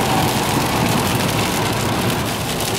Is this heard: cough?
no